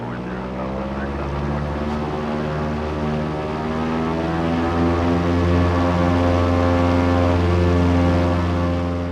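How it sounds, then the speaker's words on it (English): Twin turbocharged piston aircraft engines, long idle after sitting for years, roar at a full power run-up: a loud, steady, close droning hum with strong harmonic tones and a slowly building pitch throughout. "Let's give this a full power run up."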